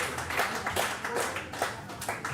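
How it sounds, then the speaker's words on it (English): Spectators clap at a lawn bowls singles grand final of a Queensland state championship, a steady scattered patter of many hands, fairly loud and sustained throughout. "There's a bit of applauding going on there."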